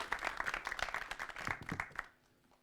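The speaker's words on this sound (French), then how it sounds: "Merci pour ces applaudissements chaleureux." Audience clapping at a cinema accessibility and inclusion event, a brief burst of many hands applauding together before it cuts off into near silence.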